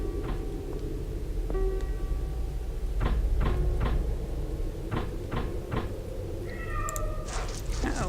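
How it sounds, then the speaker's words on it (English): A cat meows several times inside a house in the video game The Lost Crown. Its short, clear cries come over a low ambient hum, mixed with knocking and cupboard-like thuds, and no one speaks. "it sounds like we got a kitty cat"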